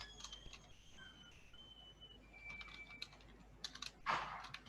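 Keystrokes on a computer keyboard while typing Python code, a quiet run of irregular clicks with a denser burst of taps toward the end, faint against a low background hum.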